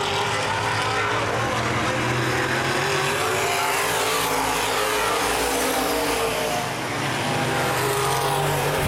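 A pack of open-wheel modified race cars roars around Baer Field Speedway, engines droning loud and steady close by with a shifting pitch as they pass, and faint commentary underneath.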